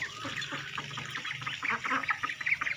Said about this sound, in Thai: เป็ดอีเลี้ยงเดินมาแล้ว